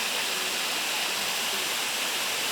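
Steady broadband rush of the Melaham river waterfall at low water, heard from the top of a steep rock wall; continuous hissing roar with no other sounds.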